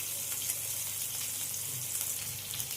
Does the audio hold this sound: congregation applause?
no